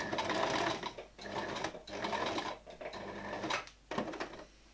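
A sewing machine stitching a shirt sleeve runs in loud, close bursts of rapid mechanical whirring, pausing briefly between short runs of stitches.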